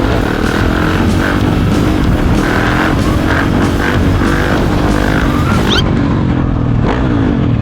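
A 690 motorcycle rides through the streets of Naples, its engine droning loudly and steadily with pulsing rev changes before the throttle is abruptly cut near the end.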